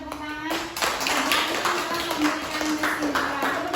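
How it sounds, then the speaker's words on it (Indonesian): A classroom of students claps together in a short burst of brisk, fairly close applause, with the teacher's voice heard briefly at the start and end. "Berikan tepuk tangan."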